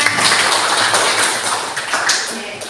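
Students in a classroom clapping together, a fairly dense burst of hand claps that holds steady and slowly tapers, with some background voices mixed in.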